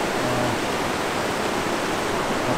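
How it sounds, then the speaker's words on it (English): Dunfield Creek flowing outdoors, a steady dense rush of water like a small cascade, close and constant throughout with no voices. "the water is still not flowing the way it was the first time, the very first time I came here"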